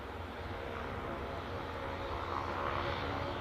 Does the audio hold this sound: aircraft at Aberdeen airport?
yes